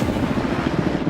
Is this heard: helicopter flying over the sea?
yes